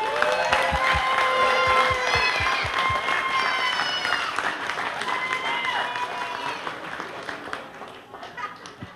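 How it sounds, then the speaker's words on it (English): Audience applause with cheering fills a crowded hall at a Down Syndrome Association calendar event in Texas, loud continuous clapping and whoops that slowly fade over several seconds, with voices calling out through the crowd. "Let's give him a big round of applause."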